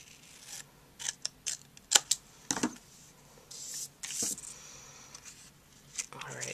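Scissors snip through a cardstock flag in a series of short, close crisp cuts and crinkles, irregular and fairly quiet, with a voice talking softly in between.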